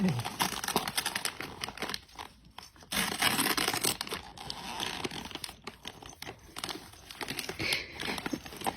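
Gift wrapping paper is torn and crumpled open at Christmas, loud close crinkling and ripping continuing in bursts across the whole stretch, with faint voices in the background.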